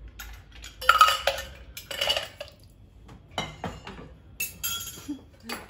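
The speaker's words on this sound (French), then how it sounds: "On vient cette fois-ci remplir le shaker de glaçons." Ice cubes poured into a cocktail shaker while mixing a Mai Tai, bright clinking and rattling in several separate bursts with quiet gaps between, close and clear.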